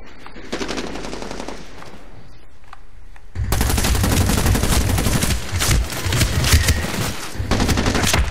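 Rapid automatic gunfire from the Medal of Honor Warfighter multiplayer shooter, sparse shots at first, then a loud, dense stretch of sustained bursts and fusillades close up.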